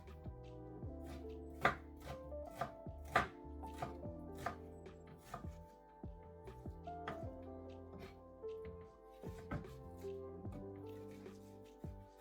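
A knife chops three onions on a board, crisp irregular thuds in quick bursts, close and clear over quiet background music.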